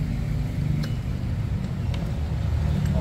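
A noisy Ford Raptor engine runs with a steady, low exhaust rumble, close and even in level, with a few faint higher clicks over the drone.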